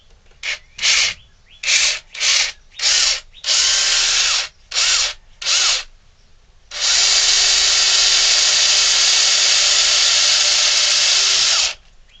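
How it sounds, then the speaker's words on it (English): A Dremel rotary tool drills a hole into a wooden ventriloquist dummy figure: eight short high whining bursts come first, then one long sustained grind of about five seconds, loud and close. "where we want to drill our hole"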